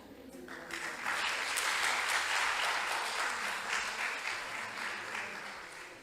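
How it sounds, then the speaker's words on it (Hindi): An audience of children and guests at a Hindi-language workshop breaks into applause, dense clapping that swells after a second and holds steady before easing slightly. "आपकी तालियां बड़ी प्यारी लगी।"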